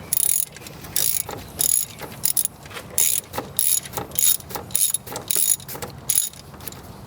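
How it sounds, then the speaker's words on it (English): A hand ratchet tightens the tension pulley bolt on a 2001 Mercedes-Benz W210 E320 wagon: repeated bursts of sharp, close clicking, about ten short runs separated by brief pauses, loud and alone. "Alright, I'm going to tighten it up"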